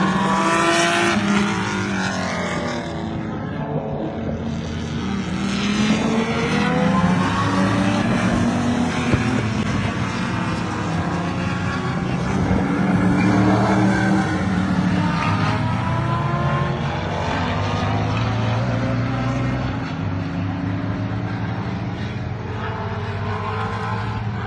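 Chevrolet Camaro at a tarmac racetrack, its engine roaring loudly and continuously with rising and falling revs as the car runs past, no talk over the noise.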